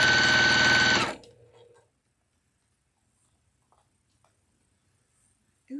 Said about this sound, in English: Today I'm sewing on the Juki TL18.